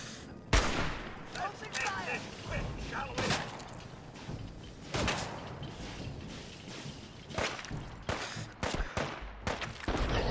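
Gunfire rings out during sniping in the video game Fallout 4, with repeated sharp shots and bursts spread across the stretch over a steady background of game ambience.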